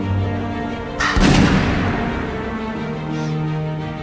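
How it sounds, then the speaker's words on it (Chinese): A single sharp warning gunshot cracks loudly once, close by, with a brief booming tail that fades under a steady background hum; no one speaks. "这次是警告，下次还敢对我开枪，就是惩罚了。"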